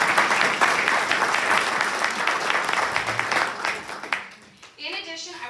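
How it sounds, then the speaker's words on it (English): An audience at a community school event gives a round of applause, loud and sustained before dying away, after which a voice begins speaking. "So a round of applause, please,"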